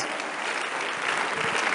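Church congregation clapping during a sermon, dense continuous applause from a large audience, loud and close, with no voices over it.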